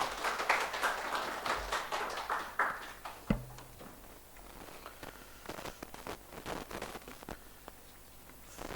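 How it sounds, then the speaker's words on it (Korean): A church congregation in Sydney applauds the preacher with light, scattered clapping that stays soft and somewhat distant, thinning out toward the end with a few isolated claps. "하나님께 영광의 박수와 우리 격려의 박수 부탁드리겠습니다"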